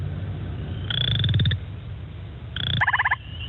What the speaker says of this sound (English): Here's the western chorus frog that we have around here again.